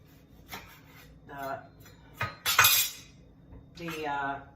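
A kitchen knife slicing the ends and top off an eggplant on a cutting board, with a few close, scraping cuts and clinks among a speaking voice.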